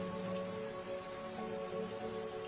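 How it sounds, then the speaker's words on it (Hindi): Stormy rain in a Hindi cartoon pours down heavily, a dense continuous patter on surfaces with a low droning hum underneath; no voices. "थोड़ी ही देर में तूफानी बारिश शुरू हो जाती है।"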